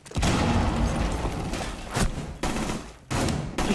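Dense, continuous gunfire in a shooter video game roars in loud sustained bursts, broken by a few sharp gaps and cutoffs, with no clear talk over it.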